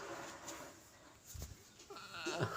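Goats bleat several times at a moderate distance over an outdoor background, with a louder, closer bleat near the end.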